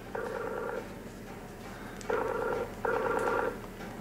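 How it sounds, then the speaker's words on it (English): A Skype video call rings out from an iPad in short repeated electronic ring bursts, one early and two more near the end, fairly quiet against a faint room background. "And so now you hear it ringing."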